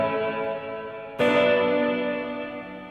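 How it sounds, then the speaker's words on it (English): Electric guitar played through an echo effect pedal with the time knob set high: a sustained ringing tone, then one sharp struck chord that blooms and trails off in a long repeating wash, with no voices. "Still very echoey because we've got this time knob still at 7."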